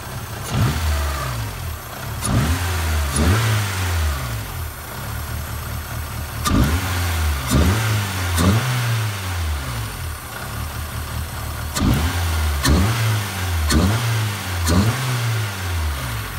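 A Toyota AE86 fitted with a K&N cold air intake revs repeatedly, with throaty engine blips rising and falling in a steady rhythm, close and loud, with no talk.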